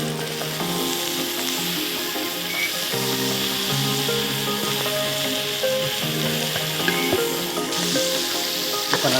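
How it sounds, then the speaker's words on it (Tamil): Ginger garlic paste and cooked vegetables sautéing in a pan for veg fried rice, a steady close sizzle and fry with occasional stirring scrapes throughout, no voices. "இஞ்சி பூண்டு பேஸ்ட் போட்டு வதக்கலாம்."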